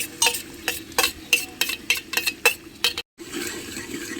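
Chopped tomatoes go into cooking masala as a spoon stirs and scrapes the pan in quick, regular strokes, about ten sharp scrapes over a soft sizzle, then a brief gap and a steadier low frying hiss, with no talk.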